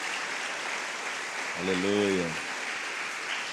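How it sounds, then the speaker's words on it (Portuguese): A church congregation claps in a steady, dense wash of applause that runs through the whole stretch, with a single voice calling out briefly in the middle. "Agora sim, dá uma salva de palmas bem forte para Jesus."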